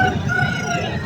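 A brief burst of clucking and crowing from an Aseel rooster at a poultry market in Tando Adam, heard against a bustling background of market voices.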